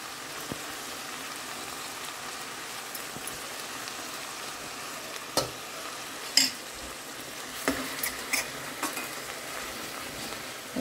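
Curry leaf sprigs sizzle in hot oil along with mint, a steady close crackle with a few sharper pops scattered through, no voices over it.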